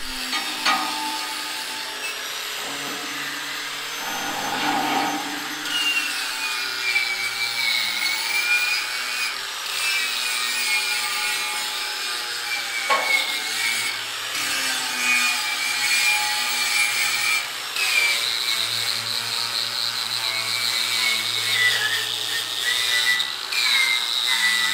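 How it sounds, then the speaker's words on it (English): Labels and leftover sticker adhesive being scraped and rubbed off a distressed 20-ton tilt deck trailer, a steady gritty scraping and rubbing that continues close and fairly loud throughout, with no talk. "I want to take off all the labels, or that's how I'm going to get all the adhesive that's left from the stickers"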